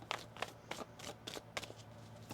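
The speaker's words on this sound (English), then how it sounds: "One more shuffle." Tarot cards being shuffled by hand, a run of quick papery riffles and soft slaps in irregular bursts, close and fairly quiet against a low steady hum.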